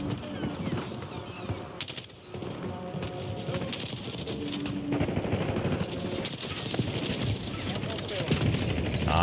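Rapid bursts of Kilo rifle fire in Black Ops 6, loud and close with steady repeated shots building in intensity, mixed with game effects and a voice speaking over parts of it.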